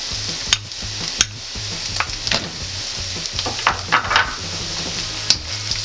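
A spoon stirs a dried beef and cheddar filling with onion in a sizzling pan, giving repeated scraping strokes over a steady fry, close up and with no voices.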